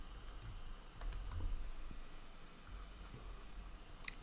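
Computer keyboard typing as code is written for a Python Instagram unfollower project, a soft, steady patter of keystrokes close by with a few sharper clicks, quiet and without voices.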